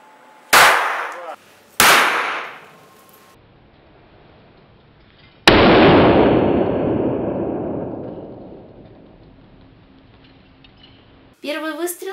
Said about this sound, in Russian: Первый выстрел по блоку желатина,